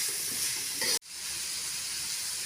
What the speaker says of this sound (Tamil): வெங்காயம் நல்லா வதக்கி விட்டுக்கலாம்.